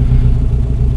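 A van engine with a blown head gasket idles steadily at about 900 RPM, a loud, even low rumble with a constant throb and no voices over it.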